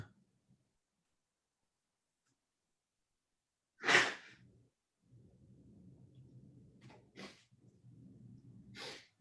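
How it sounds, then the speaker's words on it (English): Someone with a stuffy nose from pollen blows into a tissue, giving one sharp loud honk followed by softer snuffling breaths and two brief further blows, close in an otherwise quiet room. "Excuse me while I blow my nose."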